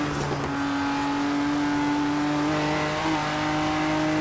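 A 2017 Ford GT in the racing game Forza Horizon 3 revs steadily and loudly throughout, its engine note holding a sustained drone with a brief pitch shift midway and no talking.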